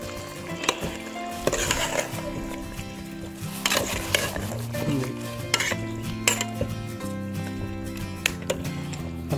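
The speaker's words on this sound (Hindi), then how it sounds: "अब ये जो ऊपर से हमने मसाला डाला है, इसे भी हम भून लेंगे।" Chicken masala fries in a pan while a metal spoon scrapes and clatters steadily against it, over a faint sizzle.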